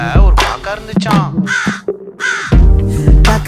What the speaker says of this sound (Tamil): ஊர்ல ஒரு காக்கா இருந்துச்சான்.